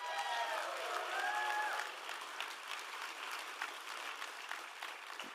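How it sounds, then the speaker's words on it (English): Audience applause for a speaker at a gun-rights event, steady dense clapping that starts loud and fades slightly, with some tonal voices or whistles over it early on. "Please give a big round of applause for Dudley Brown."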